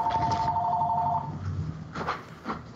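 A telephone rings close by with a steady electronic trill for just over a second, then stops, leaving faint room noise and a few soft thumps.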